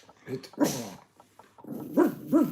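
Dog barking and whimpering indoors: a few short, nearby yelps and whines, with someone speaking quietly and soothingly in between.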